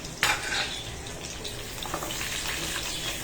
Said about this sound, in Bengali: এখন এটা আমি ভালো করে একটু নাড়াচাড়া করে নিই